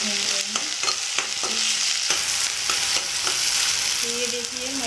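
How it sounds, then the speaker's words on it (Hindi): Onion and potato frying in a pan with mustard seeds, a steady bright sizzle with occasional stirring scrapes throughout, close and continuous with no talking. "ये प्याज और आलू तो मैं डाल के अच्छे से भून रही हूँ"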